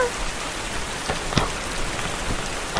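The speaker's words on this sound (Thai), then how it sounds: "ขอบคุณสำหรับฝนนะ" Rain falls steadily on surfaces during a forest hike, a dense, continuous patter close by with a sharper drop striking near the middle.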